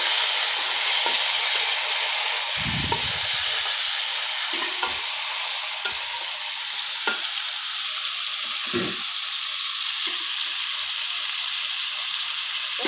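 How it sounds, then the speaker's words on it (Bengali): Taki fish frying in hot oil in a pan, a steady loud hiss of sizzling with occasional soft scrapes and knocks as the pieces are stirred, close up and without talk. "এখন আমি মাছগুলো দিয়ে দিচ্ছি মাছগুলো দিয়ে একটু নেড়ে নিয়ে"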